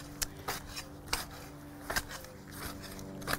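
A tool mixes soil into a small garden bed, making faint, irregular scraping thumps spaced about half a second to a second apart.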